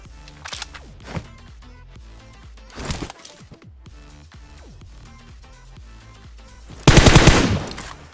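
Automatic gunfire in a video game, fired at a bot: bursts of rapid shots repeat through the clip, with a louder, denser burst near the end, over steady game sound and no talk.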